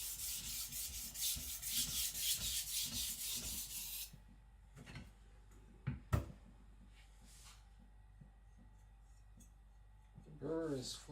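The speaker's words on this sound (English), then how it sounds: "I'm sharpening this at maybe 10-12 degrees." A custom Patrik Carlvik nakiri knife honed on a stone at a shallow angle, a rapid run of rhythmic rasping strokes for about four seconds, then quiet with a few knocks and a brief voice near the end.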